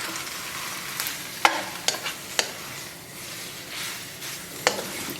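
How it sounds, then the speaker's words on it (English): Linguine with sea urchins and parsley stirred in a hot pan, a soft continuous sizzle broken by a few sharp utensil clicks and scrapes, quiet and close with no speech. "let's add our sea urchins and parsley. Let's give it a good mix. Let everything heat up just a little bit"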